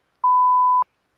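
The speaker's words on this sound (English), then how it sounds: "you just go beep" A single steady censor beep tone lasts just over half a second, clean and loud, cutting off dialogue and surrounded by silence.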